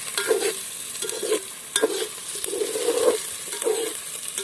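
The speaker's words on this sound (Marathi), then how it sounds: "तर आता हे पुन्हा थोडा वेळ असंच हलवीत राहायचं आहे कांदा जळू नाही द्यायचा आपल्याला" Sliced onions frying in plenty of oil for chicken biryani, stirred with a spoon in a pan: a close, steady sizzle broken by rhythmic scraping strokes at regular intervals.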